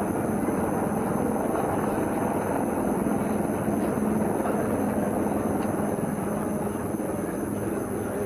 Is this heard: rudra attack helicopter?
yes